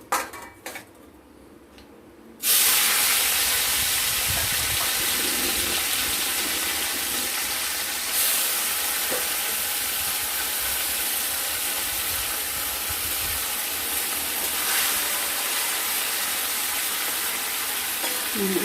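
Chela fish fry in hot oil with a loud, steady sizzle that starts abruptly after a quiet moment, and occasional soft clinks of utensils come through the bubbling.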